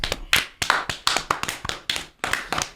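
Sharp, close tapping or clapping strikes, about a dozen in a quick, fairly even rhythm, each crisp and loud with short gaps between.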